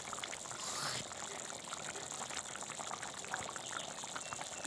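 Mutton curry bubbling and simmering in an open pan, a soft steady wet burble with faint sputters throughout, quiet and close, without speech.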